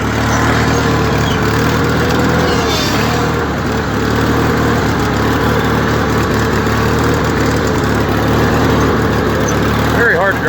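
A John Deere 316 garden tractor engine running as the tractor is driven over dirt: a loud, continuous mechanical drone with steady low harmonics, close and uninterrupted.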